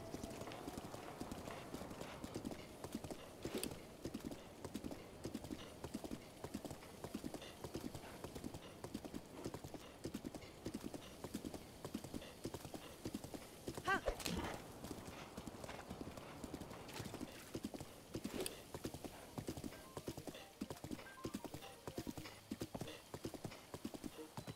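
Steady, rhythmic clip-clop of horse hooves from riding in a video game, continuous and fairly faint throughout with a brief neigh-like accent midway, no talking.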